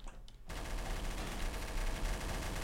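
Dense, sustained gunfire in the online shooter Trouble in Terrorist Town, a continuous burst of rapid shots that starts abruptly after a brief quiet moment and keeps a loud, steady pace.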